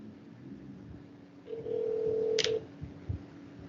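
Telephone placing a call, a steady dial tone followed by a quick keypad beep and a couple of soft clicks over faint room noise.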